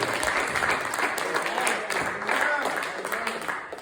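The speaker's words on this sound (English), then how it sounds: "Give him a hand clap of praise." A church congregation bursts into sustained applause, dense clapping filling the room, with voices calling out beneath it.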